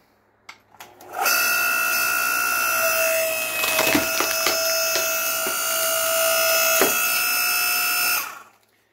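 Wet, knotty, frozen wood being split, with a steady engine-driven drone running for about seven seconds and a few sharp cracks and knocks over it, fairly loud and close.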